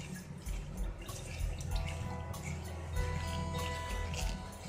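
Falsa (black currant) juice drips and trickles steadily through a strainer as it is stirred with a spoon, a close, continuous wet patter with no voices.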